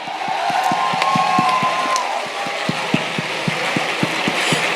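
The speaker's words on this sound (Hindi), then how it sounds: "एक जोरदार तालियां म्यूजिक के साथ।" An audience giving a loud round of rhythmic clapping in time with music at a talk or seminar, a dense crowd roar with steady beat-like claps throughout.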